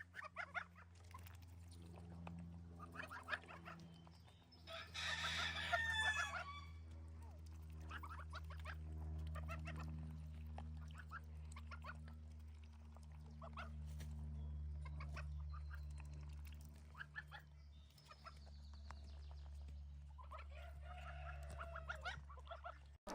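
Chickens cluck and squawk around a homestead chicken house in Canada, with scattered calls near and far over a steady low hum and a short burst of louder squawking.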